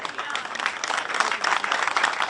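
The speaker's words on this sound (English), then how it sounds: "I want us to first give a clap of appreciation" Crowd at an outdoor political manifesto rally in Mbarara applauding in appreciation, a dense, steady wash of clapping that holds for a couple of seconds with no break.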